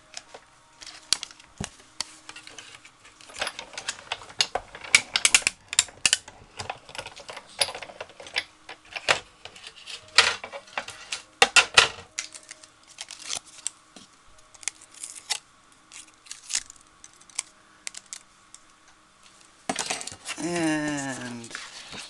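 Card stock with tape on it cranked through a die-cutting machine while making a daisy all-occasion card, giving a run of irregular clicks and rattles followed by a rising grinding crank near the end, with no talking.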